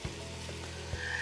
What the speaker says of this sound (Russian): Мы его с вами обжарим сначала чуть-чуть с 2 сторон.